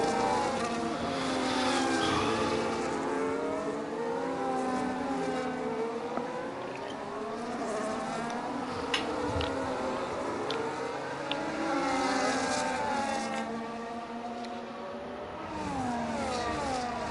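Simulated race cars run in a tight DRS train at Zandvoort in a video game race. Several engine whines overlap, rising and falling in pitch as the cars accelerate and shift, steady and loud, with no talking.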